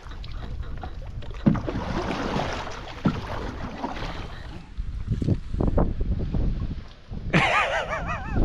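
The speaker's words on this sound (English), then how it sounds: "I'm paddling so hard." Canoe paddling on a wilderness lake in the Boundary Waters: repeated splashy paddle strokes and water swishes near the boat, with gusts of wind buffeting the microphone.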